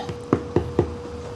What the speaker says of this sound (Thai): ได้ยินเสียงเคาะมา